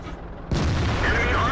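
A Waffenträger auf Pz. IV tank destroyer in World of Tanks fires its cannon with a sudden loud boom, followed by a heavy sustained rumble, while someone speaks alongside.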